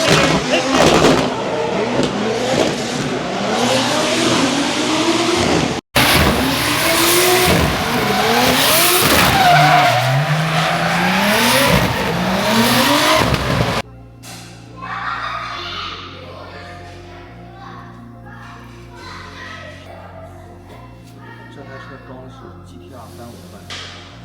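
A drift car, a Nissan S15 being tested at a track in China, skids with long screeching tire squeal and revving engine, loud and close, then gives way to quieter talk over music.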